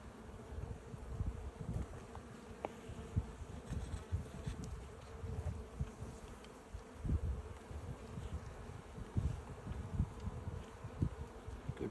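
Bees hum and buzz continuously around an open hive during an inspection, a dense, fluctuating drone with individual insects passing close by.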